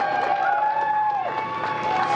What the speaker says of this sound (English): Small crowd, but big cheers.